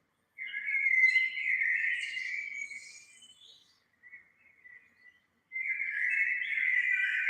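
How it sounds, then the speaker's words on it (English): A bird sings outdoors in long, clear whistled phrases that stop for a moment and then resume, with nothing else audible around it. "the vibration of the birds, all noise pollution gone, just Gaia we're listening to"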